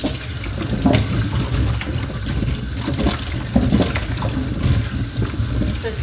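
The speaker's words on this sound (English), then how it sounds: "I'm just getting the limes quickly rinsed off." Limes are rinsed under running tap water, a steady splashing stream with small irregular bursts as the fruit moves through it, close and moderately loud with no voices.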